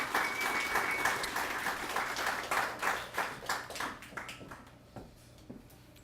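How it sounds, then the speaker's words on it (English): Applause at a downtown development association awards event: a sustained round of clapping from an audience, loud and dense at first, then thinning out and fading over several seconds. "let's have a big round of applause for Betsy."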